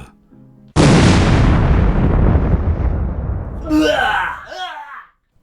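A sudden loud bomb blast erupts after a quiet moment, roaring and rumbling as it slowly decays, followed by a gasping voice reacting near the end.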